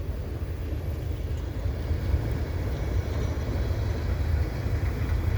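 CN freight train passing in falling snow at Argenson Park, a continuous low heavy rumble and rolling roar that stays steady and close, with no voices over it.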